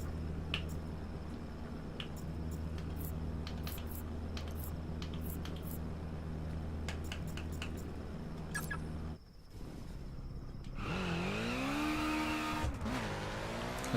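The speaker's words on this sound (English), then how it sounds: "This is not what a BRZ should sound like." Subaru BRZ engine in the racing game The Crew Wild Run: a steady droning idle with sharp clicks overhead, a brief dip, then the engine revs up with rising and falling pitch sweeps, loud and close.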